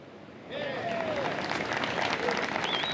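Golf spectators in Spain cheer and applaud for their countryman Miguel Angel Jimenez, a steady wash of clapping swelling up after a quiet start, with scattered shouts and whistles mixed into the crowd noise.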